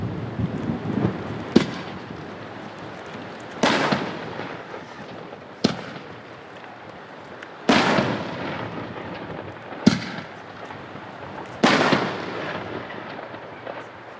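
Neon Artillery Shell fireworks by Hot Shot, consumer artillery shells, burst in a series of six loud booming explosions spaced about two seconds apart, each with a sharp crack and rumbling crackling tail, outdoors with no talking.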